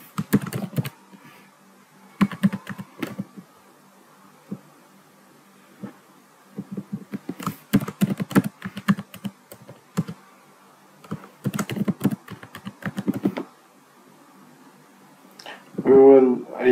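Computer keyboard typing in short bursts of rapid key clicks separated by pauses, fairly close and clear, with a low steady hum underneath and a brief louder sound at the end.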